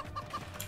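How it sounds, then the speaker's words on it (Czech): A chicken clucks briefly in a few quick, faint notes against a low background hum, with no talking. "To byla slepice, taky jsem ji slyšela."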